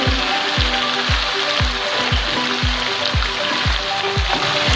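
Mutton, chopped tomatoes and green chilies fry in a pan for mutton karahi, a steady, close sizzle running under a regular series of low, thudding beats about twice a second.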